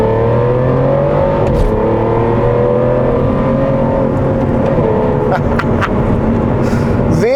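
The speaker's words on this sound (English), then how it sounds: "This is one of the best sounding cars, best sounding V12s I've ever heard." An Aston Martin Vanquish Carbon Edition V12 engine roars steadily and loudly, rising and settling in pitch as it revs, with a few clicks and knocks.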